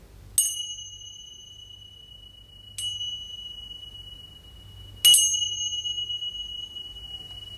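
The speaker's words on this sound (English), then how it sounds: "We close our practice as we began with the sound of 3 chimes" Three clear chime strikes, spaced a couple of seconds apart, each ringing out bright and sustained before slowly fading in a quiet room.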